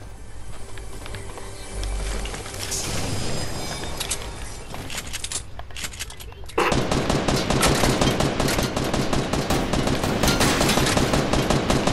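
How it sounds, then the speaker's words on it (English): Rapid video game gunfire, dense bursts of automatic shots that grow louder and more sustained midway, with constant game noise underneath. "He's trying to shoot me down."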